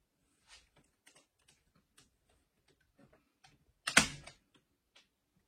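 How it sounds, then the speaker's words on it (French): Staple gun firing into a wooden chair frame while cane webbing is fixed in place, quiet scattered clicks and handling taps, then one sharp louder snap of a staple being driven, close and with no voices. "Je mets mon agrafe et je vais répéter l'opération dans mes angles"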